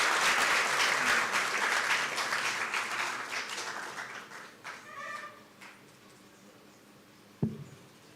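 Loud audience applause at a celebration event, dense clapping that gradually thins and fades over several seconds, ending with a single sharp knock.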